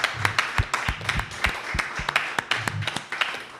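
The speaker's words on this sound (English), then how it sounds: "Bob, we're going to give you a round of applause" An audience claps at a talk about peace and Pan-African coalitions, irregular sharp claps from a modest crowd rather than a roaring ovation, sustained for a few seconds.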